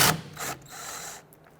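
A 15mm ratchet working the nut on the rear sway bar end link of a 1992-1996 Toyota Camry, a short burst of quick clicking close by, fading after about a second.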